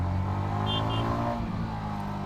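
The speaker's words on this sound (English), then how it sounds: "But see how it is revving." Yamaha XSR motorcycle engine running on the road, a steady close mechanical drone with a slight rise in pitch as it revs, held at an even level throughout.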